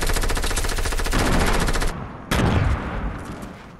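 Rapid automatic gunfire in a squad-based shooter video game, a loud sustained burst of close shots that breaks off briefly, then resumes in a shorter volley before trailing away.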